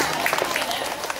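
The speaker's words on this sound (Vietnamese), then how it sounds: "Chúng ta sẽ cho một tràng pháo tay thật lớn để ghi nhận cái thành tích của các em." Dense, steady applause from an audience at a school awards ceremony in Vietnam honoring students' achievements, a brief wash of many clapping hands with crowd noise mixed in.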